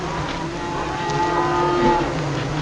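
A cartoon cow moos in the Oscar the Balloonist farm video game, one long sustained low lowing call that carries on steadily without talk over it.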